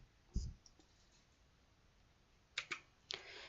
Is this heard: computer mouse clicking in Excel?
yes